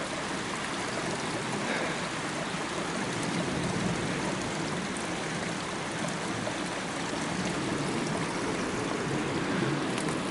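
Mountain stream flowing in a steady, close, broadband rush of water that stays even and continuous from start to end, with no talk over it.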